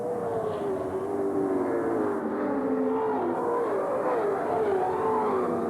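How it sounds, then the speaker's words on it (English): Steady, loud engine drone from a Shell Ford Falcon touring car racing at Lakeside in the 1993 ATCC, heard from an onboard roof camera, with pitch rising and falling through gear changes and no break in the roar. "that's what the view looks like from the roof of Johnson's Shell Falcon"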